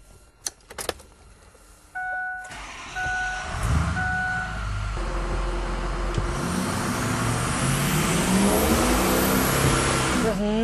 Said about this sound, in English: We just installed the B&B exhaust system, and we're ready to make our dyno pull.